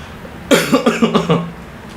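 A short burst of harsh coughing, five or six quick hacks close to the mic, then quiet.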